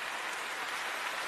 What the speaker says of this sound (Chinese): 掌声鼓励一下，好不好？